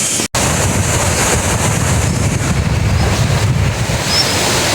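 Rushing water of a cascade along the trail to Barshangarh waterfall in the Sainj Valley, heard as a broad, continuous roar close by, with wind buffeting the microphone and no talking.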